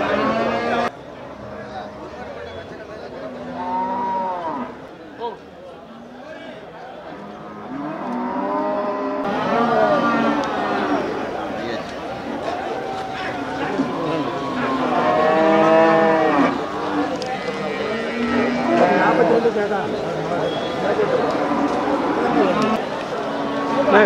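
Cattle at a livestock trade moo repeatedly and loudly, several drawn-out calls from nearby animals mixed with ongoing conversation between people.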